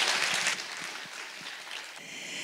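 Audience applause at a Korean business workshop on overseas marketing, a steady broadband clapping that is loudest at the start, then thins and lingers at moderate level for about two seconds.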